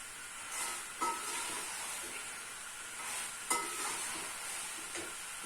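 Sliced okra with whole onions sizzles and is stirred in a hot pan, giving a continuous close hiss broken by a few sharp scraping knocks from the stirring.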